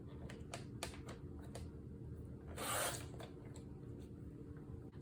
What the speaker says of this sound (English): I'm going to trim this to 4 3/8 of an inch.